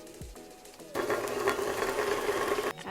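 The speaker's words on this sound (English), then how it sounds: "Beat together until pale and creamy for about 2 minutes." An electric hand mixer beats eggs into creamed batter with almond extract for blueberry bread. After a quiet start, a loud, steady motor whir kicks in at about one second and runs evenly until it cuts off just before the end.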